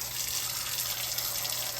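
Cold tap water gushing steadily into a cooking pot for diced potatoes, a continuous dense rushing stream heard close up with no talking.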